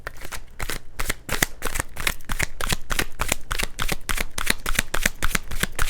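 Tarot cards shuffled by hand in a steady, rapid stream of crisp riffling flicks, close and continuous with no voices.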